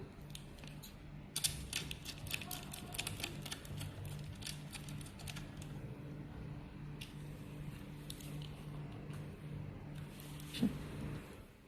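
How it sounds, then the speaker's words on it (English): Close, quiet ratcheting clicks as a screw is tightened on the trinocular connector of a Nikon E100 microscope, a rapid run of ticks at first, then slower scattered clicks with a low hum underneath. "Tighten the screw."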